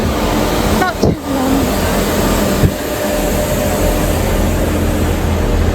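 Steady rumbling train cabin noise while riding, with a low drone throughout, a few short voices and a faint squeal briefly cutting through near the start.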